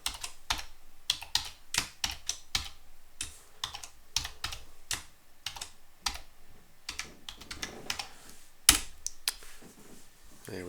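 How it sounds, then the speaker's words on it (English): A password being typed on a computer keyboard to log in: rapid, irregular key clicks in bursts with brief pauses, close and clear, with no talking. "I'm going to type it in"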